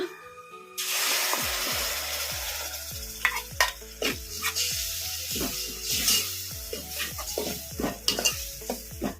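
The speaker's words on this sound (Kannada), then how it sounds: "ಟೊಮೊಟೊ ಪೇಸ್ಟ್ ಈಗ ಇದನ್ನು ಈ ಒಗ್ಗರಣೆಗೆ ಹಾಕ್ಬಿಡೋಣ" A pan sizzles steadily as tomato paste goes into hot tempering for garlic rasam, while a spoon repeatedly scrapes and clinks against it in an uneven stirring rhythm, close and fairly quiet.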